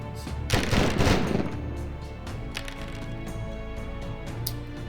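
Gunfire erupts in a Total War: Warhammer battle as Empire of Men troops fire, with a dense crackling volley early, then scattered sharp shots over a steady battlefield din.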